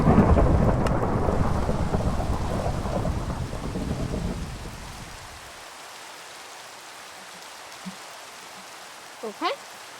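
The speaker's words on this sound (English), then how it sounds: "that lightning was getting annoying" A long rumble of thunder rolls in the Minecraft game over heavy rain-like noise and slowly fades. Later come a few faint crackles and a short sharp zap.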